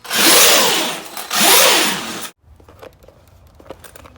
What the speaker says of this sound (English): Got through rebuilding all the diffs in my Arrma 6S Talion. And it's sounding pretty smooth.